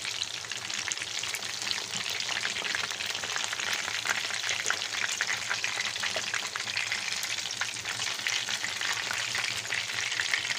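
Chicken pieces deep frying in hot oil for a crispy chicken fry, a steady, dense bubbling sizzle that holds close and even throughout with no voices.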